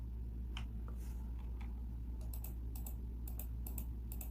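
Computer mouse clicks made while tracing an outline in Photoshop, a quick run of sharp, light clicks close up, coming in loose bursts over a steady low hum, with no talking.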